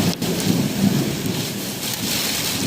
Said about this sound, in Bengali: প্রচুর জোরে ঝড় বৃষ্টি হচ্ছে, প্রচুর জোরে